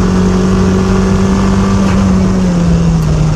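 A car engine drones loudly and steadily while the car is pushed sideways in a drift, its pitch slowly sagging as the revs fall.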